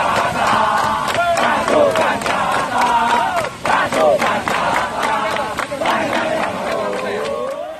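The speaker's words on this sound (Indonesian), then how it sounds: "yel-yel paling umum yang mereka sorakan adalah berisi pesan, jangan bermain cinta dengan mereka" Elite Indonesian military commando troops shouting yel-yel chants in unison, a loud massed chorus of rhythmic hollered lines with sharp accented shouts, close and sustained throughout.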